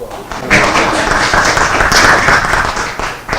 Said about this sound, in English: Yeah, we'll give her a round of applause.